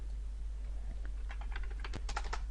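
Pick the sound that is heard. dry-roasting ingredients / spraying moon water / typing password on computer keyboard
typing password on computer keyboard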